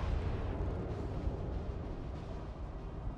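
Naval gunfire in World of Warships rolls as a continuous deep, heavy rumble with no clear separate blasts, loud and steady throughout with no voices.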